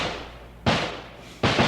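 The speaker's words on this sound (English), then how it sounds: "we can put off simulated gunfire" Simulated gunfire for active shooter training sounds as two loud sharp bangs, the first near 0.65 s and the second near 1.4 s, each ringing briefly before decaying.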